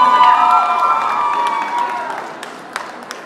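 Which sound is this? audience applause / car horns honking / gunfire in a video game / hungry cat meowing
audience applause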